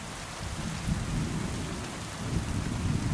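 Heavy rain pours continuously with deep rolling thunder rumbling underneath during a storm in the medieval game Kingdom Come Deliverance II, loud and dense with no voices.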